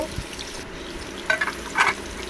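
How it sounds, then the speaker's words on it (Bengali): Hilsa fish frying in a pan of oil, a low steady sizzle broken by two brief louder bursts of spattering and scraping as the pieces are moved or turned. "এদিকে আমার মাছ ভাজা হচ্ছে"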